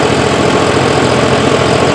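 A John Deere 5405 CRDi tractor engine idles nearby with a loud, steady, low rumble and an even throb throughout, with no voices.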